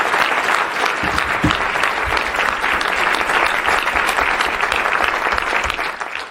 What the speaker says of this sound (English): Can we all please give them a round of applause?